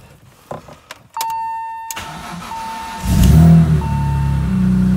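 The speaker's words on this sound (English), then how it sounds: "I'm gonna fire her up in below 0 temperatures with 10W60 oil." A Fiat car engine cranks and fires up in below-zero cold, running on 10W60 oil. Clicks and a whine come first, then the engine catches near the three-second mark and settles into a loud, steady idle with no voices.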